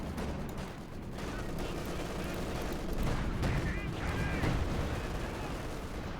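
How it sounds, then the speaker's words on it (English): DP light machine guns carried by engineers fire in Company of Heroes 2, rattling bursts mixed with other battlefield gunfire and distant explosions, under a caster's talk. "the engineers were the ones that picked up the DP light machine guns"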